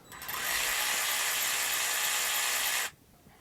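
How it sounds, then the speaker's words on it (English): A Mac Tools battery-powered ratchet runs steadily for nearly three seconds, a loud continuous buzzing whir close to the listener that starts abruptly and cuts off sharply, followed by quiet. "That's a nice little old ratchet though."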